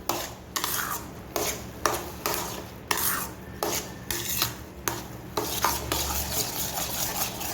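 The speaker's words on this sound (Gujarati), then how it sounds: "હવે આને આપણે બરાબર મિક્સ કરી લઈશું" Steady stirring and scraping of a thick semolina and mango mixture in a pan, with rhythmic rasping strokes and faint sizzling underneath, close up and without talk.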